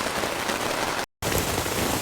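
Heavy storm rain drums steadily on a tent, a dense continuous hiss of drops broken by one brief moment of silence midway.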